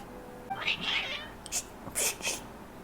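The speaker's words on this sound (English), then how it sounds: "Your cats seem pretty worked up." Cats in the Genshin Impact video game meow several times in quick succession, agitated and fairly close, with short bursts separated by brief pauses and no talking.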